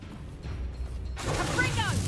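A Bombarda blasting spell cast in Hogwarts Legacy gameplay on PS5, a sudden crashing burst that follows a quiet stretch, with rushing debris-like noise trailing off over background game sound.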